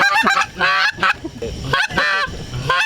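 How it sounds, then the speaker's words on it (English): Loud, close goose call blown by hand on a riverbank during catfishing, giving a run of harsh, nasal honks in several bursts with short gaps between them. "Or do you guys, have another goose call?"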